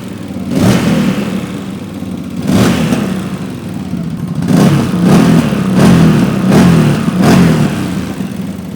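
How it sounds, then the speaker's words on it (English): A CFMOTO Gen 3 CForce 1000 ATV with a Trail Tamer exhaust, running without radiator or coolant, is blipped in neutral: about six sharp, loud throttle revs rise and fall over a steady idle, close up. "Let's do some neutral revs."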